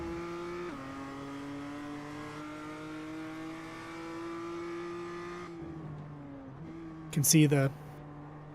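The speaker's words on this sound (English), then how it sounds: "backfire on the tailpipe as David lifts" At Brands Hatch, David's race car drones steadily as it runs, then lets out a short, sharp crackle of backfire from the tailpipe as he lifts off the throttle, with a commentator talking over it.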